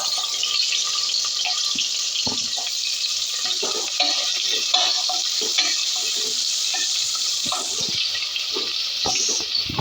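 Steady sizzling hiss of onion frying in a pan, with irregular scraping and clinking of a utensil stirring throughout, no voices.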